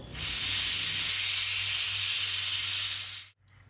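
Loud, continuous hiss of steam jetting from a pressure cooker, sustained for a few seconds before cutting off abruptly.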